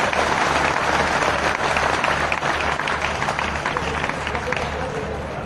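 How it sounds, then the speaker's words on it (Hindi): A large audience applauds loudly and steadily at a Women's Day event in a hall, sustained clapping filling the room with a rhythmic low thumping underneath and crowd noise throughout. "जोरदार तालियों के साथ स्वागत किया है"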